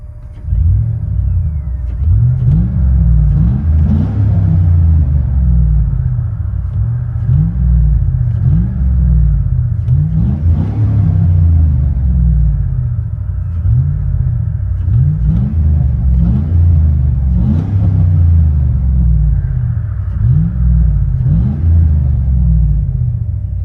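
A 2004 Chevy Silverado with a 5.3L V8 and a Black Widow Angry Housewife muffler, loud deep exhaust rumble that swells in repeated revs, several throttle blips rising and falling over a steady idle.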